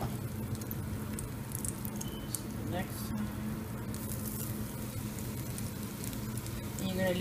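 Tilapia fillets frying in about two tablespoons of oil, giving a steady, dense sizzle and crackle throughout with occasional clinks.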